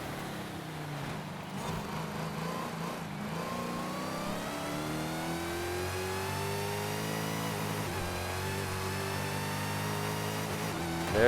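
A 2015 Dodge Charger Hellcat SRT engine revs and pulls hard through the gears, a rising, harmonic-rich roar that climbs steadily in pitch, dips at a shift around the middle, then climbs again, heard close and alone.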